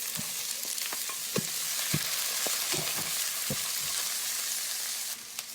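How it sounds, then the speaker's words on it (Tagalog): Garlic sautéing in a pan until lightly browned before onion goes in, a steady close sizzle and frying crackle throughout with occasional scraping stirs, no talking. "So, una kong igigisa ay yung bawang. Kapag bawang ay medyo brown na, pwede na ilagay yung sibuyas."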